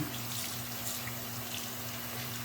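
A bathroom tap runs steadily, a constant broadband hiss of water flowing into a sink with a faint low hum underneath, with no talking.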